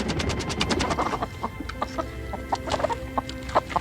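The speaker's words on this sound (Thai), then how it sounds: "เขาได้ยินเสียงปีกไก่กระพือและ" A trapped wild junglefowl flaps its wings in a rapid fluttering burst, then gives a series of sharp, frightened clucks and squawks. The calls are irregular and fairly close, with no talking.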